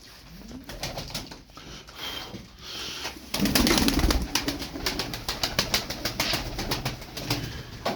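Pet game pigeons cooing close by in repeated soft, rolling calls, followed by a burst of louder rustling and fluttering wing movement.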